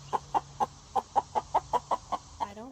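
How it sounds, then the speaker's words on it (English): A distressed young rooster from a backyard flock, shut in a pen, gives a quick series of about a dozen sharp, evenly spaced clucks, close and fairly loud, ending in a short wavering call. "A very unhappy rooster who was just thrown in jail"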